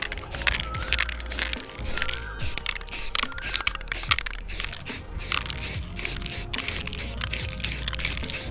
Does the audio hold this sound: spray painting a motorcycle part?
yes